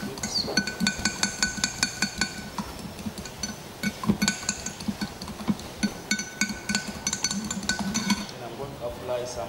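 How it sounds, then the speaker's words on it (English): A utensil clinks rapidly against a bowl while an egg is whisked during kitchen prep for chicken lollipops, with a rhythmic tapping and scraping that pauses briefly. "Then you whisk it."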